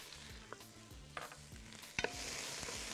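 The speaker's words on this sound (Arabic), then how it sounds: "اشوحها شويه مع شويه من الملح" Onion sautés in oil with a pinch of salt, a steady soft sizzle under occasional stirring scrapes and light clinks of a utensil against the pan, a sharper double clatter near the end, no voices.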